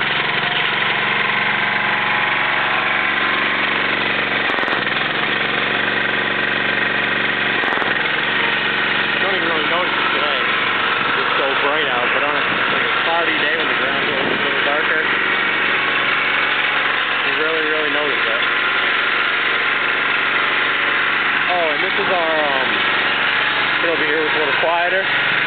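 A 1972 Jacobsen Homelite lawn tractor with a bad valve seal idles steadily and loudly throughout, with an electric PTO clutch on the front. A person talks over the engine's rough, even drone.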